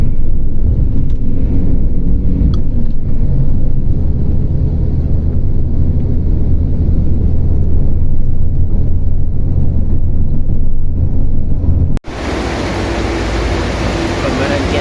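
A car travels on the road to Bukittinggi, a steady loud engine and road rumble with wind buffeting throughout, briefly cut off near the end before resuming, with voices faintly underneath.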